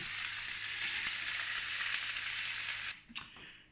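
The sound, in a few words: fish frying in a pan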